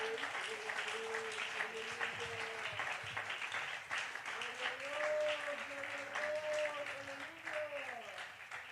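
A church congregation applauds steadily for the whole stretch, dense clapping over a sustained tone, likely an organ or keyboard, with some voices mixed in.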